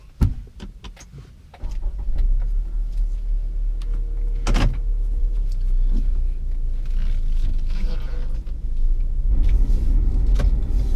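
A 2015 Lexus NX200t starts up after a few interior clicks and settles into a steady, low engine rumble that stays close and even, with a sharp thump partway through.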